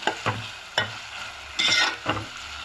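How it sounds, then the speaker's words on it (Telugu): Ginger garlic paste frying in a pan, a steady hiss broken by several sharp spatula scrapes and stirs, close and clear with no talking. "ఇప్పుడు ఇందులోకి 1 టేబుల్ స్పూన్ అల్లం వెల్లుల్లి పేస్ట్ వేసుకుందాము. పచ్చివాసన పోయేంత వరకు బాగా వేగనిద్దాము"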